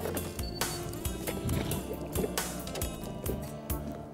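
Minn Kota Terrova trolling motor being lowered off a boat into the water, a steady mix of splashing, water movement and mechanical clunks through the whole short stretch, fairly close and without talk.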